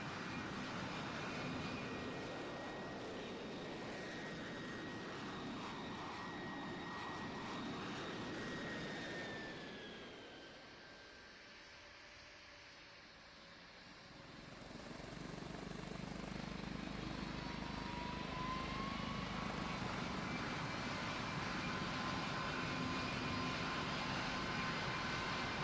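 Antonov aircraft taking off in Pilot Training Flight Simulator, a loud sustained engine roar that dips briefly midway and then swells back with a rising whine.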